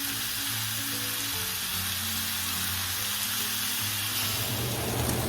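Burger patties sizzle and fry steadily in a hot pan, a loud continuous crackling hiss that holds from start to finish with only a faint low hum beneath it.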